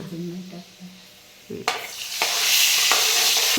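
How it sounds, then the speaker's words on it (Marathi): A tempering of mustard seeds and garlic crackles in hot oil for a village-style dill greens dish. After a quiet start with a voice, there is a sudden loud burst of sizzling, then a steady, close frying hiss with stirring. "आता मस्त तडका बघा काय तडका आहे"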